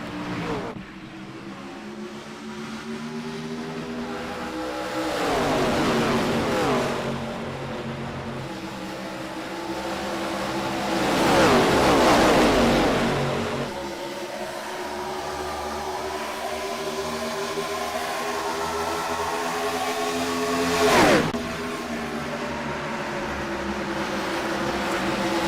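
ARCA Series stock cars in a racing video game pull away from a green-flag start at Homestead, engines droning steadily with rising pitch sweeps as cars accelerate and pass, several louder surges swelling and fading across the field.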